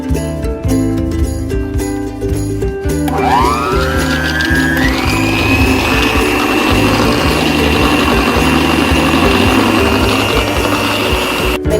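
An electric blender beats egg, milk and bread for a pudding: rattling clatter first, then the motor spins up into a steady, loud, high whine that runs on continuously.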